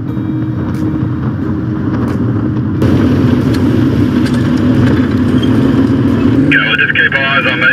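Car in a convoy travelling on a dirt road past Lake Walla Walla, its engine droning steadily close by with road rumble, rising a little partway through, with a brief higher-pitched beep near the end.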